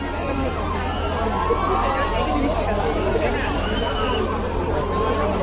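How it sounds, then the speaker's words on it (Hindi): Dense crowd babble at a Kali Puja festival, many voices blending into a constant, loud hubbub with a low background hum, steady throughout. "बहुत भीड़ है दोस्तों"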